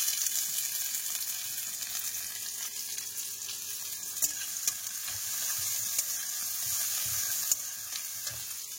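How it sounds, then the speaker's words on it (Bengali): Chopped onion and green chilli fry in oil in a wok with a continuous, close sizzle, a bright crackling hiss that holds steady for several seconds, punctuated by a few sharp pops and light stirring. "কড়ার মধ্যে পেঁয়াজ কুচি আর কাঁচা লঙ্কা দিয়ে দিয়েছি, তেল দিয়ে দিলাম।"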